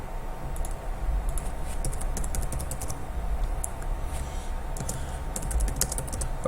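Rapid clicks from a computer keyboard as a file name is typed, bursts of keystrokes over a steady low background hum, no voice.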